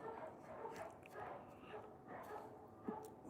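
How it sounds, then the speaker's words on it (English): Several dogs bark off in the distance, a faint string of repeated yaps with a slightly sharper bark near the end. "Those dogs are going to bark like that all night long."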